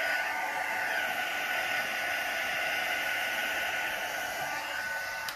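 A hair dryer blows steadily at close range, drying alcohol inks on canvas with a constant airy roar, then cuts off at the very end.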